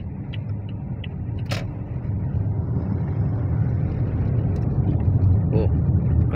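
A 2023 Toyota Vios with dual VVT-i engine on a road test, giving a steady low engine and road rumble that builds slightly, with brief clicks and a voice now and then.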